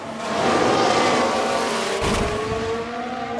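A single car crash replay from F1 Manager 2022, with an Alpine involved: race engines whine at high revs, then a sudden low thud and scraping burst near the middle before the engine drone continues.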